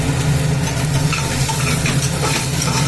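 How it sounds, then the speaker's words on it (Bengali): Asafoetida and ginger sizzling loudly in hot oil as they are stirred, a dense, continuous close-up hiss. "আদাটা একটু নেড়ে নিলাম এইবার হিংটা দিচ্ছি"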